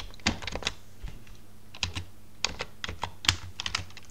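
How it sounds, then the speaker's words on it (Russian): Keystrokes typing a command on a computer keyboard at a Windows command prompt, a few quick bursts of sharp clicks with short pauses, close and clear with no talk. "Получаем командную строку и здесь набираем regedit."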